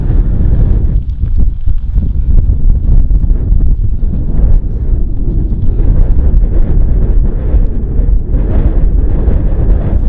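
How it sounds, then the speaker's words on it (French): Heavy wind buffets the microphone continuously outdoors in Iceland, a loud rumbling roar with gusting surges throughout. "Il y a tellement de vent."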